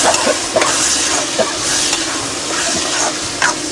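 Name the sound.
prawn masala being stirred and roasted on low flame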